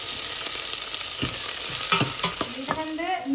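Ingredients for a lotus root curry sauté in a hot pan with a steady sizzle, while a spoon scrapes and stirs in uneven strokes that grow busier toward the end. No one speaks.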